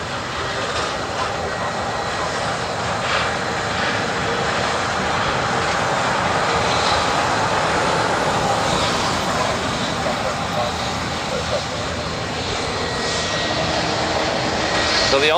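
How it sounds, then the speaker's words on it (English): An ANA Boeing 787 Dreamliner jet airliner rumbles and roars steadily at a busy Honolulu airport, a broad continuous engine wash heard from a spotting position, with faint voices mixed in. "This one's not a A380, but it is a Dreamliner."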